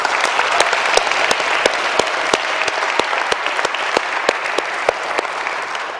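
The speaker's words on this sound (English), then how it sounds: "Can we give all the volunteers and all the organizers a round of applause?" Audience applause for volunteers and organizers at a university lecture, steady dense clapping with sharp individual claps standing out, sustained and fairly loud for the full stretch.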